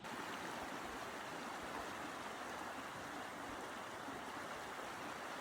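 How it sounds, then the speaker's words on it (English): A waterfall on a hiking trail in the Yorkshire Dales near Whernside and Ribblehead pours with a steady, unbroken rushing roar that stays even and full throughout. "there's actually a waterfall behind me"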